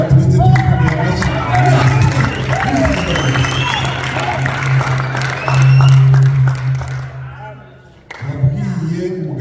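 Church congregation applauding and cheering, a dense wash of clapping with voices and whoops, loud and sustained, dipping briefly near the end before surging again.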